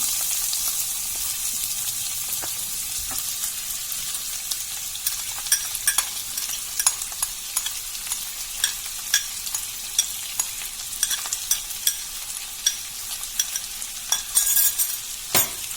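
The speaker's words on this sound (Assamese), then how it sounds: "এইটো পিঁয়াজটো ভালকৈ ভাজিব লাগিব" Chopped raw onions sizzle steadily in a hot pan while a utensil scrapes and stirs now and then, producing soft clicks over the constant frying hiss.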